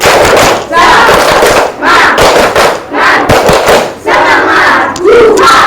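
A classroom of students doing a "tepuk semangat" spirit cheer, loud group shouting in repeated bursts with claps, several rousing waves of young voices close by.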